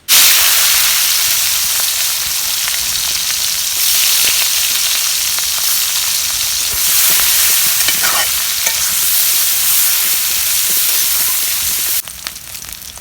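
Ginger and garlic hit hot oil in a pan for a vegetable fish curry, a loud, dense sizzle with scraping stirs running nearly the whole time before dropping off sharply near the end; nobody speaks.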